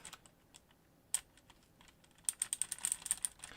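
Typing on a mechanical keyboard with clicky MX Blue switches: a few scattered keypresses, then a quick burst of crisp, close clicks in rapid succession.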